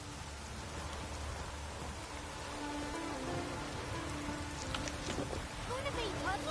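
Constant rain pours down in a steady hiss, with a voice speaking briefly over it and a few small tones near the end.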